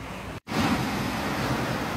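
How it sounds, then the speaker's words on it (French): Steady broadband rush of ocean surf with wind at Théoule-sur-Mer, two waves meeting, loud and continuous, briefly cut by a sudden dropout before resuming. "Et là, tu as les deux vagues qui se rapprochent, qui se touchent."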